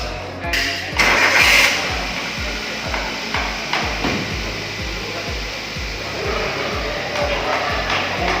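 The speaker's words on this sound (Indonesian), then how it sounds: "Setelah dinyalakan, mesin berfungsi dengan normal dan RPM tetap stabil." A Toyota Avanza EFI car engine starts after a tune-up, with a brief cranking burst followed by a steady, rhythmic idle that stays loud and close, with some workshop clatter over it.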